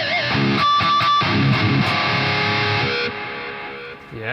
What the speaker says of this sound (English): Atom Smash preset with a delay and reverb on.